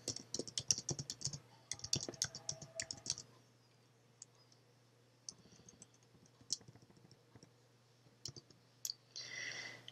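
Keys tapped in quick bursts while typing text into a text box in Microsoft Word, close and clear, with pauses between runs and a steady low hum underneath.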